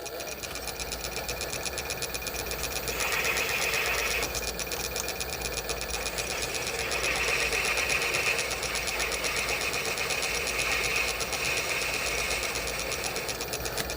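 A metal lathe cuts a taper on the end of a Wurth disc pendulum centre shaft, giving a steady mechanical whirr with a fine rapid ticking rhythm that holds at an even level throughout.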